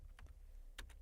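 Keys clack on a computer keyboard while a Linux terminal command is entered, a few quick soft taps in two short bursts, close and quiet.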